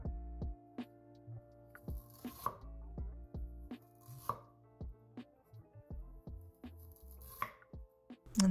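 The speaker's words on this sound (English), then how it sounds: "Alright, time to cut the ginger. So roll it to the most stable side down, slice into thin rounds." A knife cuts ginger into thin rounds on a cutting board, producing a steady series of sharp, close chopping taps over a faint background hum.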